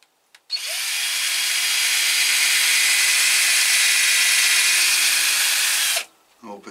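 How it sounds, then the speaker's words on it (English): A power drill boring holes in an orchid mount whines steadily and loudly for about five and a half seconds, close up, then stops abruptly with faint handling noise after. "So we'll get those holes drilled."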